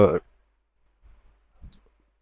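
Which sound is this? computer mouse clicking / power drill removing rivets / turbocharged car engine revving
computer mouse clicking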